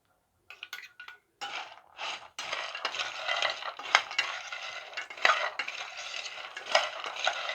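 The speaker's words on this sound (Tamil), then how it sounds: "இதையும் நல்லா மிக்ஸ் பண்ணிடலாம்." Crispy fried pasta is tossed with salt and chilli powder in a bowl, giving a continuous close rustling, scraping and clinking of utensil against the dish that runs for several seconds after a few brief opening scrapes.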